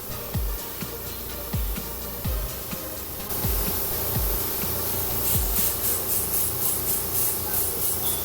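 An airbrush sprays makeup color corrector in short dotted bursts, a soft close hiss of air repeating in a quick irregular rhythm, with faint low taps and handling noise underneath.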